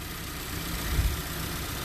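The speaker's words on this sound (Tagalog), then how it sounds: "So, ito ang makina ng Subaru Ascent." A 2021 Subaru Ascent Limited with a 2.5-liter turbocharged four-cylinder engine idles under an open hood, a quiet, steady low hum heard close by with a slight swell midway.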